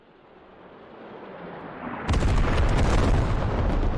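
A low rumble swells before an artillery shell from a creeping barrage in Squad slams down with a loud, sustained roaring blast that lingers as a heavy, broad wash of noise.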